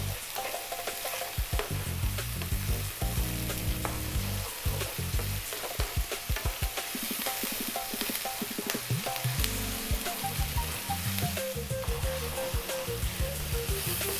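Lamb bhuna curry paste frying with salt in a pan over high heat, a dense continuous sizzle with stirring scrapes and crackles, loud and close, no voices.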